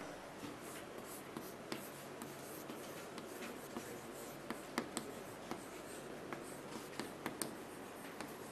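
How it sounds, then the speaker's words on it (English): Chalk or marker writing on a board during a mathematics lecture: quiet scratchy strokes and light taps in an irregular rhythm, close but faint, with no talking. "I'll write that so there is no confusion."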